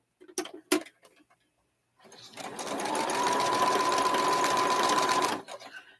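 Sewing machine quilting a pinwheel quilt, a few short stitch bursts first, then a close, rapid continuous run of stitching for several seconds before it slows and stops.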